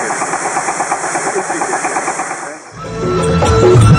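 Biogas-fuelled diesel generator engine running at a biogas plant, a loud throbbing chug with steady pulses that dips, then gives way to a rougher rumble.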